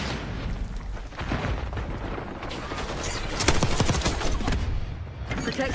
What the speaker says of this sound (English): Impact grenade.